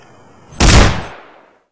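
A single loud gunshot rings out in the bush, fired at a beast about 25 yards away, a sharp close blast with a short echoing decay and no talk.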